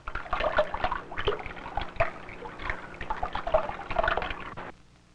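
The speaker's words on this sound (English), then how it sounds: "When water moves, you hear a splashing sound." Continuous splashing and sloshing of water, fairly close and steady, fading out at the end.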